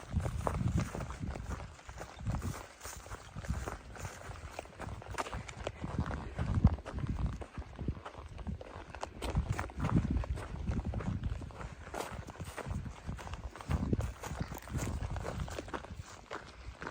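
A herd of cows walks past on a rural stretch of the Continental Divide Trail, hooves thudding and clopping irregularly on the ground, fairly close, with shuffling movement and outdoor background noise throughout.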